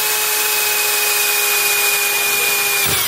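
A high, steady whine of a power drill boring a pilot hole through metal on a 2014 Dodge Durango R/T for a tow baseplate runs continuously at close range, then winds down abruptly.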